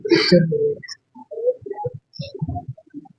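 Soft, low cooing of high-flying breed pigeons, several throaty calls in irregular bursts, close by, with a brief higher chirp near the start.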